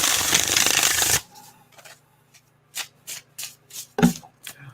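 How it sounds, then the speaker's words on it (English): A small tarot deck with smooth laminated cards is shuffled in a loud burst of riffling for about a second, followed by several soft, separate card taps and slides close by. "I want to see how this shuffles."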